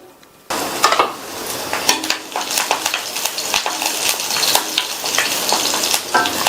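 Green chillies, ginger and curry leaves are sautéed in hot oil after mustard seeds have popped, giving a sudden burst of sizzling followed by steady frying and scraping stirring strokes, close and fairly loud.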